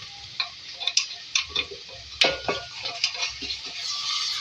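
Ginger garlic paste fries with eggplant and potato in a pan, a soft sizzle under quick irregular ticks and light utensil clinks from stirring.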